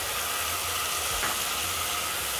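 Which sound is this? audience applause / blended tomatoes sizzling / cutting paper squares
blended tomatoes sizzling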